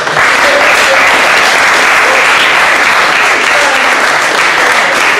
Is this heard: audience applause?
yes